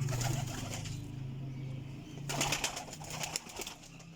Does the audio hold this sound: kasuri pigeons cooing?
yes